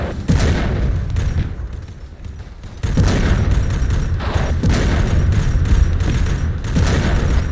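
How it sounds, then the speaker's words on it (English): Heavy explosions from the Arma 3 video game roar in dense, continuous rumbling booms and thuds as buildings are blown up, loud and sustained with a brief dip before another barrage. "I'm just gonna blow some buildings up"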